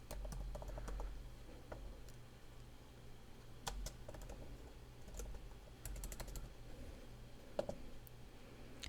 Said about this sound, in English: I'm just going to type in bulletin board for school